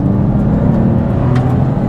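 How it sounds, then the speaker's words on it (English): A car rushes along a resurfaced road at speed, a loud, close, steady roar of engine and tyres with no gaps. "Oh, there's a car approaching at speed."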